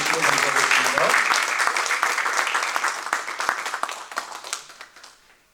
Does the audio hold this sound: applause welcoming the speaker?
yes